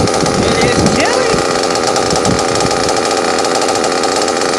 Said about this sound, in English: She's idling pretty good though.